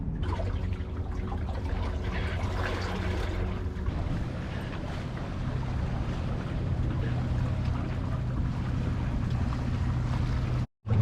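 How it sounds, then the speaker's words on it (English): A sailboat makes slow headway down Southampton Water after leaving the Hamble River, with a soft, continuous wash of water and wind against the hull and a low steady hum underneath. "we've left the Hamble River, sailing down Southampton water"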